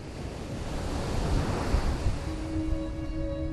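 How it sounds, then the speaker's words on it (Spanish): Strong surf from the Indian Ocean breaking on long golden beaches in Western Australia, a continuous roaring wash of waves with a swell in the middle, wind noise over the microphone and a faint distant tone. "un intenso oleaje rompe en extensas playas doradas"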